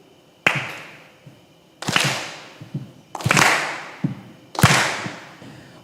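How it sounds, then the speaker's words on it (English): A lecture audience claps in unison to a beat, four loud sharp bursts of clapping spaced about a second and a half apart, each ringing out briefly in a large room. "just kind of clap to this beat"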